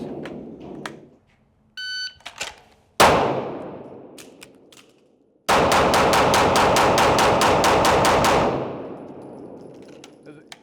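Gunfire on a police academy shooting drill, a few scattered sharp shots with a metallic clang and a beep, then a long rapid string of closely spaced shots that cuts off into reverberant quiet.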